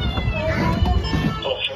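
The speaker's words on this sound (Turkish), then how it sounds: "Otomobilden kedi sesi duydular, hemen itfaiyeye haber verdiler." A kitten stuck inside the body panels of a parked car in a residential complex car park meows repeatedly, faint and muffled, under steady background noise and some voices.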